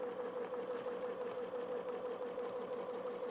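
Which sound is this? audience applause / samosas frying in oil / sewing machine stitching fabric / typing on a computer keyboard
sewing machine stitching fabric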